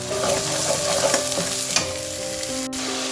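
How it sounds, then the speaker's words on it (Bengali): Spice paste with Kashmiri chilli powder and salt fries in a pan for doi katla, a constant close sizzle with occasional stirring scrapes under background music. "এবার মশলাটাকে কিছুক্ষণ কষাবো।"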